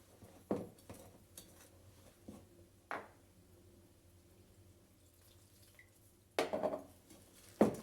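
Oil being stirred little by little into milk for a chocolate cake batter, soft liquid swishes broken by a few sharp clinks of utensil against the bowl, close and quiet, with no talking.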